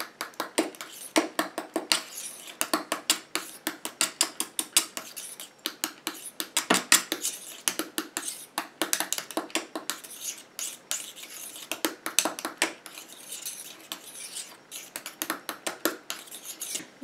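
Homemade body butter is stirred in a bowl with a utensil, producing a quick, continuous series of soft scraping and tapping strokes at close range, with no talking.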